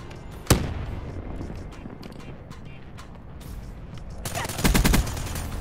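Enemy gunfire rattles through a Black Ops 3 multiplayer match: a sharp shot up front, scattered cracks, then a heavier close burst of rapid fire near the end, all over a busy game soundscape.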